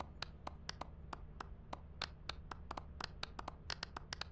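A character in Lethal Company claps hands in rapid, crisp claps repeating in an uneven run of about twenty, close and fairly quiet, over a low steady hum.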